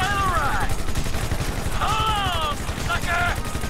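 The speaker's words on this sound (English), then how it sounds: "Men så må jeg bare skyde, åbenbart." Rapid gunfire in GTA V rattles steadily throughout, loud and close, with tonal game sounds sweeping over it and a helicopter somewhere in the fight.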